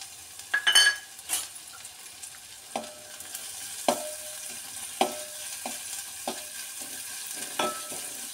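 Finely chopped ginger and garlic frying in hot ghee, a soft steady sizzle with scattered clinks and scrapes of a spoon stirring in the pan.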